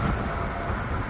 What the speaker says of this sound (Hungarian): megvárjuk, amíg elmegy a vonat